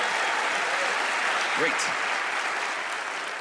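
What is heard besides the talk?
audience applause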